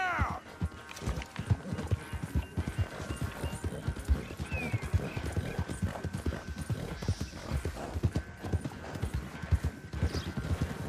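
Horse hooves gallop in a fast, steady clip-clop rhythm in the video game Red Dead Redemption 2, loud and close, with an occasional whinny and faint talk underneath.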